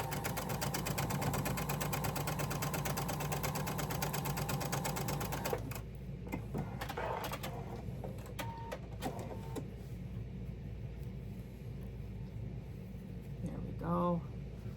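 Sewing machine stitching fabric scraps for crazy patchwork, a steady rapid whirring chatter for about six seconds that then stops, leaving quieter handling clicks and rustles with a voice speaking.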